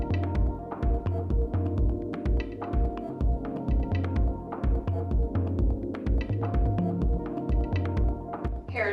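A hair dryer runs steadily at close range, its throbbing motor blowing continuously for the whole stretch with a slight pulsing rhythm and no talk over it.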